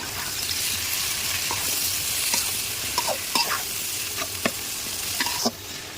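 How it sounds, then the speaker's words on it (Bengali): Radish greens stirred and frying in a pan with shrimp, onion and garlic, a steady close sizzle with scattered clinks and scrapes of a spatula stirring throughout. "পেঁয়াজ কাঁচা চিংড়ি মাছ আর রসুন ভেজে নিয়েছি, এখন শাকটা দিয়ে দিলাম। এখন এটা ভাজা করে নেব।"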